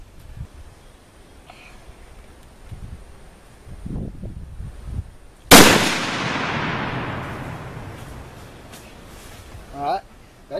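A single sharp gunshot cracks out nearby, its report ringing and trailing off over a few seconds, with quiet rustling and faint background talk before and after.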